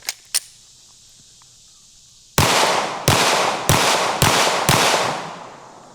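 Gunshots fired at a cheap Amazon body armor plate, five loud booming reports about a second apart with ringing decay, preceded by two faint sharp clicks.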